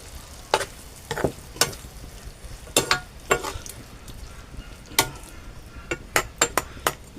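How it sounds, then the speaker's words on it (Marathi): A spoon stirs parwal vegetable curry in a pan over a soft sizzle, with repeated sharp clinks and scrapes against the metal, close and moderately quiet. "भाजी आपण ढवळून घेऊ"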